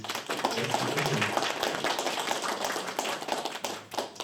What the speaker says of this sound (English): So please, a round of applause for her.